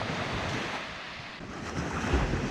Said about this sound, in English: These waves have been sounding very loud, battering into here.